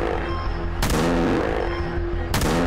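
Shotgun blasts in the video game Fart Killer, two loud booming shots about a second and a half apart, each with a sharp crack and decaying tail over steady game music.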